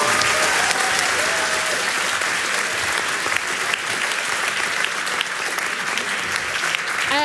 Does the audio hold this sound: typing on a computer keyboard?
no